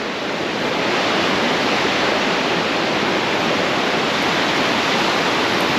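A waterfall on the Koosah and Sahalie Falls trail roars close by, a loud, steady, unbroken rush of falling water that fills the whole clip with no other sounds.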